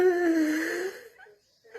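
A person gives one drawn-out, voiced yawn that slides downward and fades away, followed by a brief soft breath near the end.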